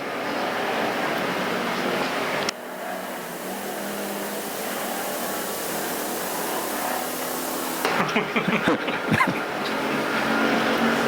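Factory stock Camaros and Chevelles race on the dirt oval at Perris Auto Speedway, a steady broad engine roar from the pack filling the whole stretch, with a brief dip midway and rougher bursts near the end.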